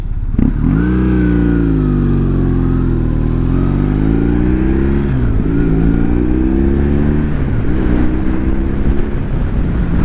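A 2005 BMW R1100S Boxer Cup Replica motorcycle engine drones steadily and loud while riding the Blue Ridge Parkway, pitch rising and dipping with several throttle changes and gear shifts, with wind rush throughout.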